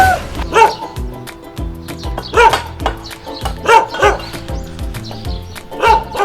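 A small dog yaps and barks in short bursts, roughly once a second, close by and fairly loud, with a steady low hum and faint background voices running underneath, recorded at a chili pepper farm in Imsil, Korea.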